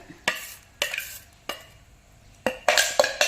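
Palm tuber paste is strained and poured in a kitchen, heard as a handful of sharp clinks and scrapes of utensils against a vessel, separated by short quiet gaps and then bunching into quick knocks near the end.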